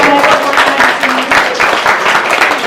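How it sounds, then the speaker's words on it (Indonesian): Applause from the audience at a press conference for the Indonesian film Pernikahan Arwah, a short, loud burst of clapping with a faint voice threaded underneath. "Kasih tepuk tangan dulu sekali lagi."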